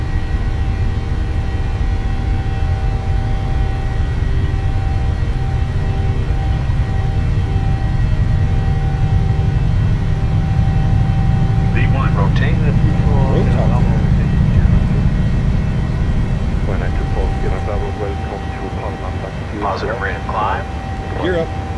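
The engines of a PMDG 737-800 in a flight simulator roar steadily at takeoff power, a loud continuous low rumble with higher whine, while people talk over it in the cockpit.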